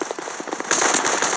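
A grenade goes off in the Guns of Boom shooter game as a run of small crackling pops that swells into a dense, loud burst of crackle.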